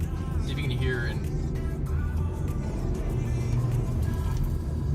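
Car engine droning in third gear on a freeway, revving with a slipping clutch as it struggles to accelerate, a steady low rumble with road noise while someone talks over it.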